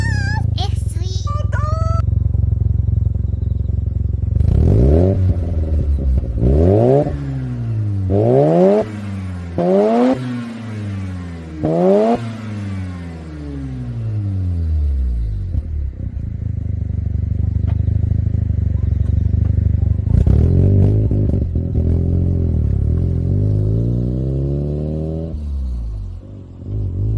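A Mazda RX-7 FC3S fitted with a FEED Sonic-R exhaust revs repeatedly. There is a string of sharp, loud throttle blips that rise and fall between a burbling idle, then a longer, sustained rev near the end, all heard close up.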